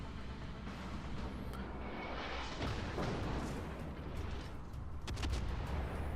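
Naval gunfire from the enemy warship Aguro in World of Warships booms through a dense, rumbling battle din with scattered sharp impacts, loud and continuous without talk.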